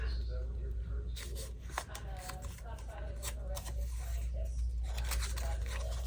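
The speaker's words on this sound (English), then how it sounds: "let's fold it in half" Sheet of paper being folded in half for a paper-craft layout, giving a steady run of soft crinkles, rustles and creases close by, continuous across the whole stretch with brief sharper scrapes, over a low constant hum.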